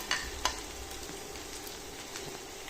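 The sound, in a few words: frying grated carrots in ghee in a wok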